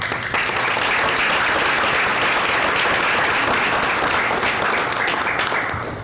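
An audience at a school board meeting applauds, giving a dense, loud, sustained round of clapping from start to finish.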